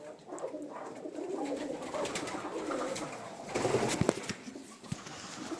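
Pigeons coo softly inside a small dovecote, low murmuring calls from several birds close by, with a few sharp clicks and brief flutters toward the end.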